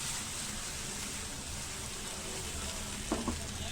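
Stuffed eggplants in a covered pan give off a steady, soft sizzle and frying crackle, with a couple of faint knocks near the end.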